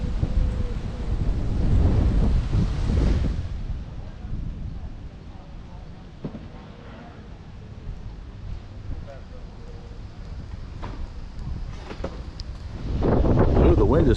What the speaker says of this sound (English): Oh, the wind has picked up.